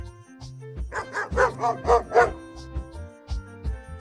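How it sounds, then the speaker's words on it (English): A dog barks several times in quick succession, fairly close, over a soft bed of background music. "D for dog."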